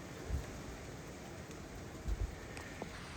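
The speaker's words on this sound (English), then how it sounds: "It's been raining all day today." Rain falling outside on a day of constant rain, heard as a soft, steady hiss with a few faint low thumps.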